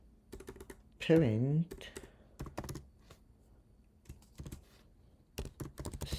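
Typing on a computer keyboard while writing Python code, close clicking keystrokes in short irregular bursts, with someone speaking briefly between them.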